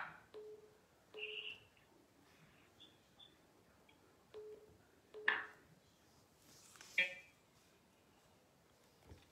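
Telephone tones on a French radio call-in line, a sparse series of short beeps and brief tonal bursts spaced irregularly over a quiet background, with faint voice traces.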